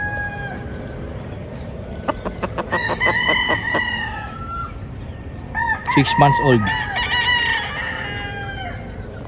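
Roosters crow loudly and up close in a chicken range area on a farm in Tagaytay, with two distinct crows and hens clucking softly beneath them; someone speaks briefly.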